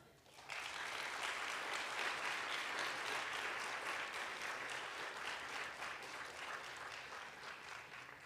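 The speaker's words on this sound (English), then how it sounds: "Ladies and gentlemen, our applause for Guru Rajul Shah" An audience at an Odissi dance recital breaks into applause for the guru, starting abruptly and holding as a steady, full wash of clapping that eases slightly toward the end.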